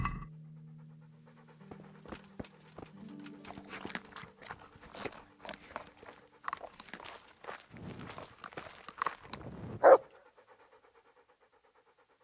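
Dog in the medieval game Kingdom Come: Deliverance panting in quick rhythmic breaths close by, mixed with footsteps and movement, with a short louder burst near the end.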